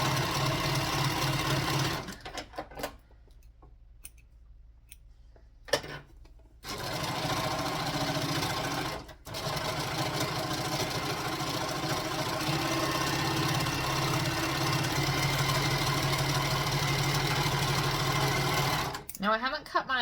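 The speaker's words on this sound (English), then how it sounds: "chain stitch it" A sewing machine chain stitches pieces of Christmas shorts in long, steady runs of rapid, close whirring, broken by a few short pauses. A voice can be heard faintly in places.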